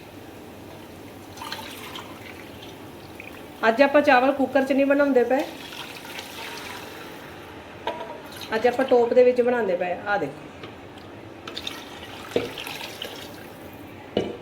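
Water is poured into a pot of rice for jeera rice, using the same vessel that measured the rice. A soft, steady splash runs under a voice speaking, which comes in two louder bursts.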